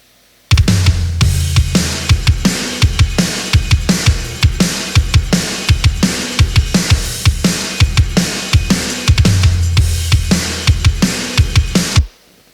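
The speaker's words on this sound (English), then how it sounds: "So overall, drums are sounding like this." A full drum kit plays a steady groove, punchy kick and snare hits with cymbals, loud and close, no voices.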